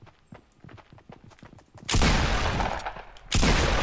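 Footstep-like taps come first, then loud sustained bursts of gunshots from the video game Fortnite. The fire stops briefly before a second burst.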